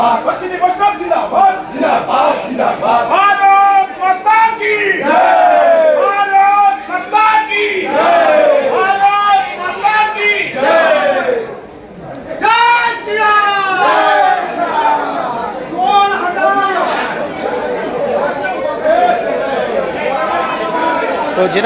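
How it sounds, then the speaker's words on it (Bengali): BJP supporters at a railway platform chant slogans in rhythmic loud crowd bursts to welcome the Amrit Bharat Express train, many voices shouting together in repeated waves, close and sustained. "এই ট্রেনকে স্বাগত জানাচ্ছেন বিজেপি কর্মী সমর্থকেরা"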